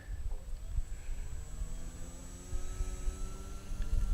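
An AP47 Apprentice S 15e electric RC airplane taxis on the ground with a steady whining motor whose pitch slowly glides, over a low rumbling outdoor background with wind noise.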